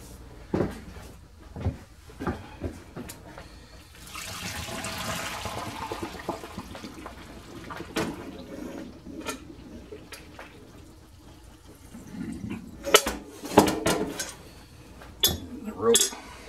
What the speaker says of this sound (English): Take my dye bath, the rope in it, and just dump out the dye.